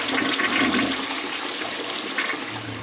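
Water rushing steadily through a toilet bowl right after a flush, fitted with a rim block, a continuous close hiss and gurgle that swells slightly near the end, with no talking.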